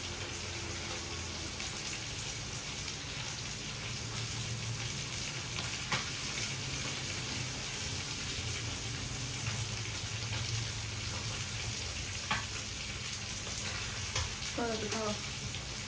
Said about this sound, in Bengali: এখনকার সব মাছ ফোটে, সব ফ্রিজে থাকে তো